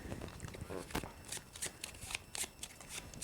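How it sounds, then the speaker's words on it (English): A discard pile of Arkham Horror cards gets shuffled by hand, crisp riffling bursts repeating in quick succession, close and fairly quiet. "shuffle the discard pile and put it on the bottom of the event deck"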